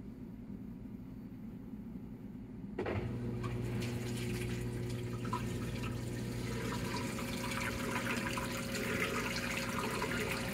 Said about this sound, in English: That seems like that little spin got an awful lot of water out of it.